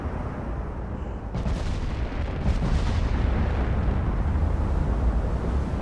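Battleship naval guns firing during a fleet engagement in the game Ultimate Admiral Dreadnoughts, a steady heavy rumble with sharper booming bursts layered on top and rolling on continuously without pause.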